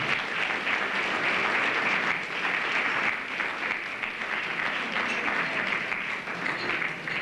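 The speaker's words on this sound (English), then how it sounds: "please give her a round of applause as she gets inducted into the Hall of Fame" Sustained applause at a Hall of Fame banquet as an inductee is honored, a dense, even wash of many hands clapping throughout with no speech over it.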